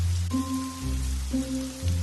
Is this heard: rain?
yes